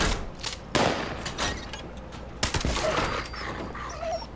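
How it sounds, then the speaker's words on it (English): Barking from an attack dog in a video game, several sharp bursts in the first seconds over a busy backdrop of game noise and gunfire-like cracks, loud and close. "Legendary attack dog."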